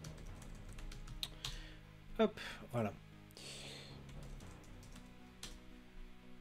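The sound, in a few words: computer keyboard typing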